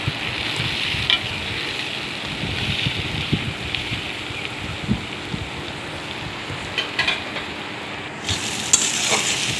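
Chicken pieces sizzle and fry steadily in hot spiced oil for home-made biryani, with close scraping stirs breaking through a dense, continuous crackle.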